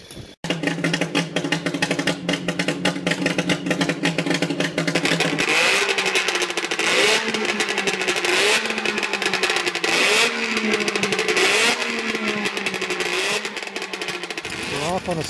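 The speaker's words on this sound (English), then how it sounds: "we're gonna go for a scooter ride" An old Doodle Bug scooter engine with a slightly gummed-up carburetor idles, then revs and drones steadily during a ride. The pitch rises and falls repeatedly, close and loud, with a voice talking over it.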